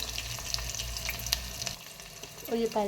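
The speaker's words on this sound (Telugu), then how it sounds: "ఇప్పుడు తాలింపు వేగిన తర్వాత మనం సన్నగా కట్ చేసుకున్న ఉల్లిపాయలు" Thinly sliced onions fry in a hot tempering, giving a steady, close sizzle with faint stirring clicks, and a short voice comes in near the end.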